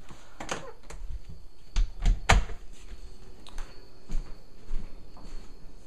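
A bathroom door swings shut with a solid thud in the middle, surrounded by a few sharper knocks and clicks against a low, steady background hum, with no talking.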